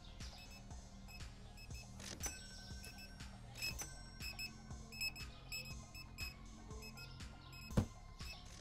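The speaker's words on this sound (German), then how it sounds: "Da hat es ein Gepiepe da." Repeated electronic beeps from a Supermarket Simulator video game ring out in an irregular series over a low humming background, with one sharper thump near the end.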